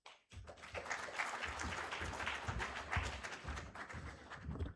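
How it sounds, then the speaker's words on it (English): Applause from a large audience at a health integration summit, dense and continuous for several seconds, sustained at steady strength. "so indeed it deserves that better round of applause"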